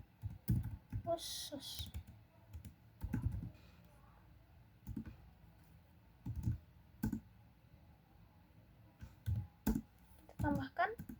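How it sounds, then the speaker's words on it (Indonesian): Keystrokes on a computer keyboard come in short bursts of sharp clicks while entering Java code. A voice speaks in between the bursts, and the typing sits close and fairly quiet. "Kita ketik perlu wawancara"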